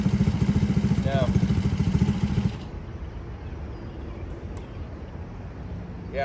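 A custom Honda S65 motorcycle's small engine runs with a rapid, chugging rattle for a couple of seconds, then cuts off, leaving quiet background with a brief faint squeak later.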